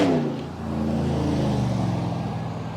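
A truck passes a road cyclist with a steady low engine drone and a broad rushing wash of road noise. The sound stays fairly loud and close with no talk.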